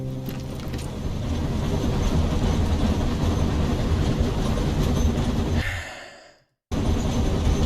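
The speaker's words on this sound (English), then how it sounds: "Did that train just go backwards?" A video-game train rumbles past at a station, a loud continuous rolling roar with faint clatter that holds steady, then cuts out abruptly to near silence before resuming.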